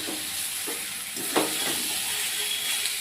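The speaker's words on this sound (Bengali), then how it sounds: "ভাজা হচ্ছে, একদম নরম হয়ে গেছে।" Food fries in oil in a pan and becomes soft. A steady, close sizzle hisses throughout, broken by a few faint stirring scrapes.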